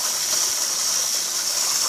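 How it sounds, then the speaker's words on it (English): Cool tap water runs from a kitchen faucet into a sink over a pan of rice, a steady close hissing gush that holds even throughout with no voices. "I'll turn some cool water on"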